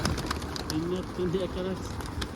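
Arab kelebek pigeon cooing in a coop, a few soft low rolling coos in a row at moderate distance, with background noise and some talk around.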